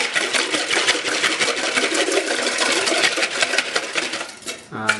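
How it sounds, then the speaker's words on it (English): Two large eggs beaten in a bowl for pancake batter, giving a fast, steady run of close, bright clicking and tapping strokes that carry on for several seconds. "And so you want to beat these eggs so that they're not separate into the whites and the yolks."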